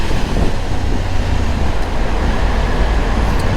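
A Honda Africa Twin 1100 motorcycle rides through busy traffic on a ring road, a dense, steady roar of engine and road noise with no break across a few seconds.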